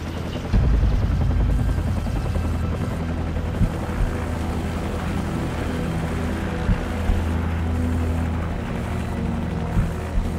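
A helicopter in Call of Duty 4: Modern Warfare drones loudly and continuously with a thick rotor roar, punctuated by occasional sharp gunfire-like cracks.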